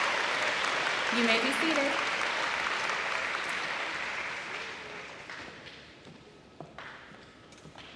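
Applause from a crowd at a school awards day honouring students fills the first half, then fades out while a voice speaks briefly over the tail.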